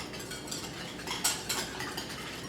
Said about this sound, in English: now I'm going to add 2 tablespoons of sugar and again whisk well